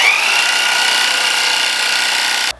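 A Sawzall fitted with a modified blade drives a 3D-printed paint shaker, a loud, steady reciprocating buzz close by that lasts a couple of seconds and then cuts off abruptly.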